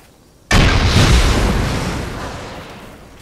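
A loud, close rocket explosion in a video game: a sudden blast followed by a long rumbling decay that fades over a few seconds.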